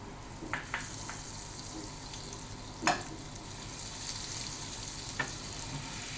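Butter melting in a hot pan while making a street-style veg Mughlai paratha filling, giving a soft, steady sizzle with a few light clicks and one sharper clatter near the middle.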